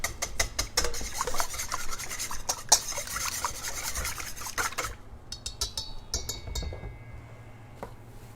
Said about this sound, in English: I'm going to do a little bit of whisking. Just get those eggs broken up.